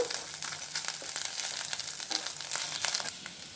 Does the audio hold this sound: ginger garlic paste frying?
yes